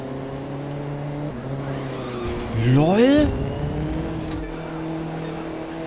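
An Audi RS3 Sportback drifting in the racing game The Crew 2: a steady engine drone rises into a loud, swooping rev and tire-squeal burst midway, then settles back, with a brief voice over it.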